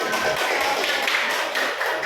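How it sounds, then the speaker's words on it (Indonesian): A classroom of students claps hands together, a brief burst of dense, mixed clapping at close range lasting a couple of seconds. "Tepuk tangan."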